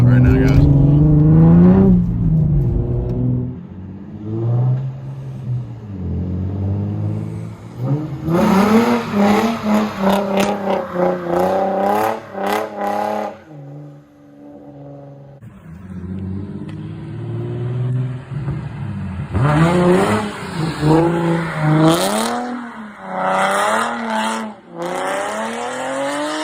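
An Infiniti G35 drifting at a street spot, its engine revving hard in repeated rising and falling sweeps with bursts of tire squeal, loud and close throughout, with a short quieter lull midway.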